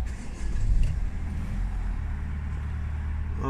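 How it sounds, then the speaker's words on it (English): The diesel engine of a 2012-registered Chevrolet Orlando LTZ cranks and fires within the first half second, then settles into a steady low idling rumble heard close up from inside the car. "Start the engine up as well so you can hear it."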